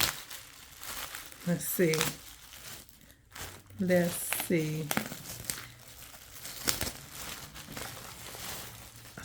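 A crinkly plastic-wrapped pack of cards, a thrift store find, is handled in several sharp bursts of crackling and rustling. A voice speaks briefly between the bursts.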